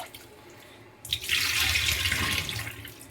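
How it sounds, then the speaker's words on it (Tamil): Sardines are washed under a running tap, with a quiet lead-in before the water gushes in close and steady, splashing and rushing for about two seconds. "நல்லா இப்படி உரசி கழுவுனா போதும்."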